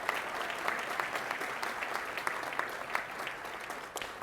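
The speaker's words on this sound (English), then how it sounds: "How about another round of applause for that decision?" Audience at a modular housing facility opening in West Louisville clapping in a sustained round of applause, even and moderately loud throughout.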